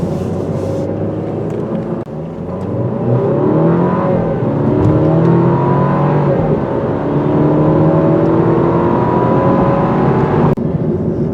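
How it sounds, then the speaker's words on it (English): A 2024 Alfa Romeo Giulia's engine pulls hard on a winding road, a loud, steady in-car drone climbing through the revs with rising harmonic sweeps, briefly dipping around a gear change before building again. "This is really a sweet engine, especially driving on roads like this."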